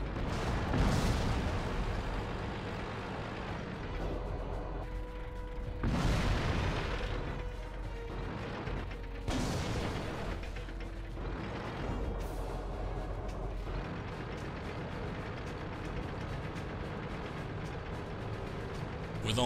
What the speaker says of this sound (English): Once my first magazine is loaded, I begin to put fire on the Ferdy.